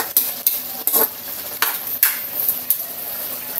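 Mang Thomas sauce with green chili cooks in a pan, sizzling and bubbling with a series of sharp scraping stirs against the pan, close up and with no talking.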